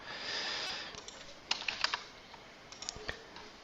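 Computer keyboard typing with scattered clustered keystrokes, a few sharper bursts of clicks standing out over a steady hiss, fairly close and moderately quiet, no talking.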